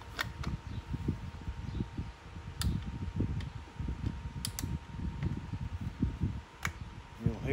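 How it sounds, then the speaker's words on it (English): Plastic electrical connectors snap into the multifunction switch of a 2002–2007 Jeep Liberty, giving a few sharp, close clicks spaced apart over a low, rumbling background. "Hear it snap when it's in all the way."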